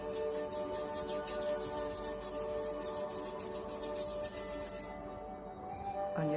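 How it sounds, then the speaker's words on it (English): Palms rub together in a steady, even swish close to the ear, continuing for several seconds before stopping, with a soft background drone underneath. "Rub your hands."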